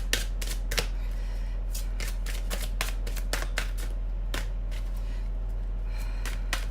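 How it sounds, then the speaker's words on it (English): A deck of Romance Angel oracle cards is shuffled by hand in quick bursts of crisp, riffling flutters, close and clear against a low steady hum, with no talk. "Got small hands, so these cards are not that easy to shuffle"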